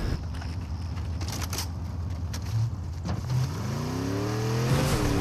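A vehicle engine in the Fortnite video game revs while driving, a steady mid-pitched drone that climbs in pitch near the end, heard up close with no talk.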